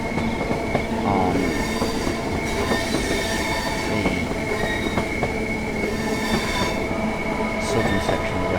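A train being driven in the video game Train Sim World 5 on the West Coast Main Line between London Euston and Milton Keynes: loud continuous rolling rumble, wheel squeals and rhythmic clickety-clack, with no talking.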